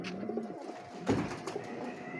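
Pigeons, including Mumbai and local breeds, coo softly at a morning pigeon farm, a few low throaty coos close by against faint background noise.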